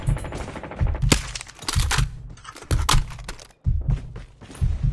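Rapid bursts of automatic gunfire in the video game Call of Duty, loud and close, with repeated rattling volleys separated by short gaps.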